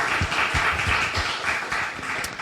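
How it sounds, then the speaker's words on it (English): Brief, fairly quiet applause from a lecture audience celebrating a book launch, scattered claps forming a light, uneven patter. "which deserves a round of applause"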